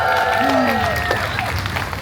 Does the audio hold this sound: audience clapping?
yes